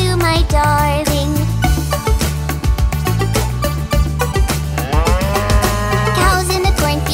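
Cartoon cows moo in a nursery rhyme about cows in a cornfield, the lowing blended into loud, bouncy sung music that plays throughout.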